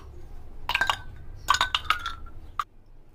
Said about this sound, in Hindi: ये देखिए मिंट लीफ के पत्ते ऐड कर देंगे और आइस क्यूब, जितना ठंडा पीना पसंद करते हो उस हिसाब से आप डालिएगा।